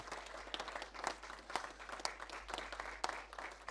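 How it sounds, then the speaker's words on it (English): An audience at a Davos conference session gives a faint, distant round of applause, a thin patter of scattered claps continuing softly for a few seconds. "Can we give Sergio a round of applause for his vision?"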